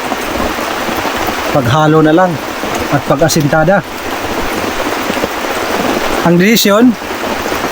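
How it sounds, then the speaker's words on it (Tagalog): Heavy rain pours steadily on a farm house construction site as someone talks over the downpour in several bursts. "hindi tumitigil yung ulan"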